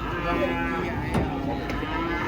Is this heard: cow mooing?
yes